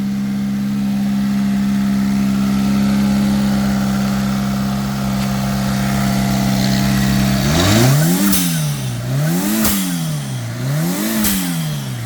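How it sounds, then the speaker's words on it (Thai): A Daihatsu Mira L80 pickup engine idles steadily up close, then revs repeatedly in rising and falling swells. "ระบบเครื่องทำงานสมบูรณ์ครับ"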